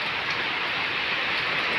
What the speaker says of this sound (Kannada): ಬರ್ರಿ ಮಳೆ ಬರ್ತಾ ಇದೆ